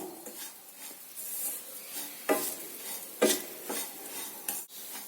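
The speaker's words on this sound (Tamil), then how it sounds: "பாருங்க இப்போ ரவையும் தேங்காயும் நல்லா வறுபட்டு நல்லா ஸ்மெல் வர ஆரம்பிச்சிடுச்சு" Semolina and grated coconut roasting and being stirred in a pan for rava laddu, with steady scraping and stirring strokes, scattered soft crackles and a few sharper utensil knocks against the pan, close and moderately loud.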